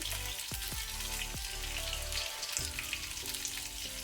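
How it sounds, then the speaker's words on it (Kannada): Minced garlic and ginger sizzle steadily in hot oil in a pan, a continuous close frying hiss with a few soft clinks, and no voices. "ಸ್ವಲ್ಪ ಇದನ್ನು ನಾವು ಫ್ರೈ ಮಾಡ್ಕೊಳ್ಳೋಣ. ಸ್ವಲ್ಪ ಗೋಲ್ಡನ್ ಕಲರ್ ಬರಲಿ ಬೆಳ್ಳುಳ್ಳಿಯಲ್ಲಿ."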